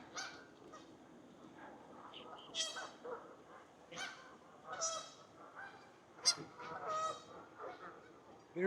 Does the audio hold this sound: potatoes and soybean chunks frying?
no